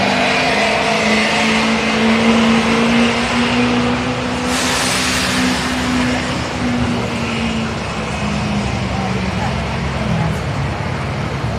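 A 2011 Chevy stock truck pulls at a county fair truck pull, its engine roaring loud and sustained with a steady droning tone and crowd and announcer noise blended underneath.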